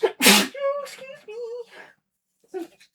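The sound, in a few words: loud sneeze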